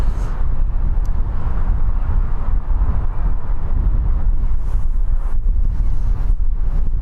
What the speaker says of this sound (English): didn't think it was going to be this windy today